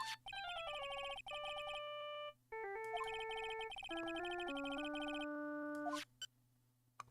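An old-style cell phone ringtone plays in the Ace Attorney Trilogy video game, a clear electronic melody of stepped beeping tones in repeated phrases with short gaps, loud and alone over a faint background hum.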